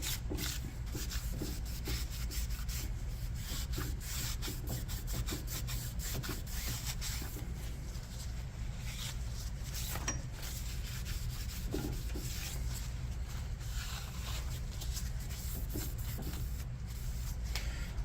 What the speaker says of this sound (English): all we're going to do is clean up the mating surface here of all the old gasket